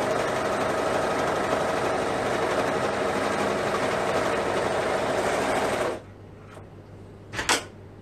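A sewing machine stitching t-shirt seams runs in a steady, dense mechanical whir for about six seconds, then stops abruptly, leaving a quiet hum broken by a couple of brief clicks.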